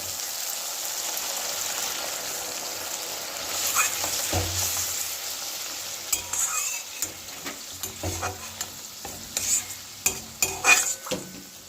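Hot water poured into frying fish masala in a pan, a steady sizzle that grows into bursts of scraping and clinking as the mix is stirred, close and fairly loud, no voices.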